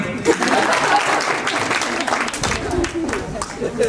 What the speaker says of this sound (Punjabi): ਤਾੜੀਆਂ ਪਾ ਦੇ ਫਿਰ ਪਹਿਲੇ